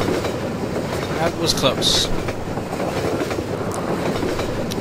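A moving train in the video game Half-Life 2 rumbles and clatters steadily on its rails, loud and close throughout, with a few sharp metallic clanks and someone speaking briefly over it.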